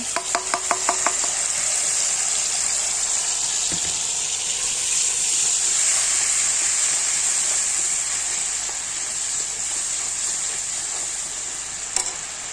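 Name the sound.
poppy seed paste added to hot oil in a wok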